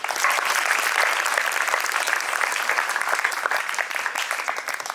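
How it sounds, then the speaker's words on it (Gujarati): Loud, dense audience applause at a community meal event, sustained clapping from a large crowd close by, continuing evenly throughout without voices. "જોરદાર તાળીઓ થઈ જાય."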